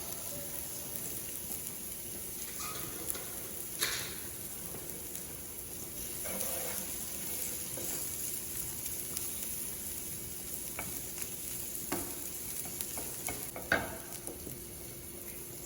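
Onions sizzle steadily in a frying pan as part of a bangers and mash gravy, a continuous soft crackle with occasional louder spits and stirring scrapes, no voices over it.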